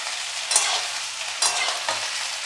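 Potato and capsicum curry sizzles steadily in a pan while a spatula stirs it, with a few louder scraping sweeps over the constant close frying hiss.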